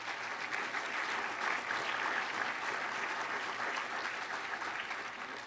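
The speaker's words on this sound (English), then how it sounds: "You deserve a round of applause." A crowd claps steadily for several seconds, a dense, even patter of many hands with no voices over it.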